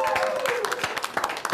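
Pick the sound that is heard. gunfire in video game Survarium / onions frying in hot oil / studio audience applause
studio audience applause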